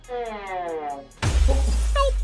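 A glass door shattering, a sudden loud crash of breaking glass following a sustained tone, with brief bright fragments ringing out afterward.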